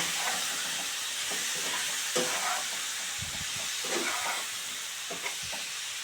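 Steamed cauliflower pieces fry in hot oil, with a constant hiss and sizzle under scattered clinks and scrapes of stirring, up close with no one talking.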